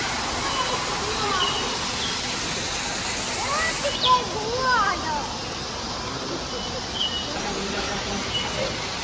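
Steady broadband rush of a waterfall at a zoo fills the scene, with faint bird chirps and a few voices murmuring in the background.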